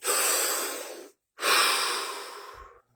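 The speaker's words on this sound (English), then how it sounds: "Take a deep breath." A long, deep breath drawn in and let out during a guided relaxation exercise, two broad airy swells separated by a short pause, close and clear with no talking.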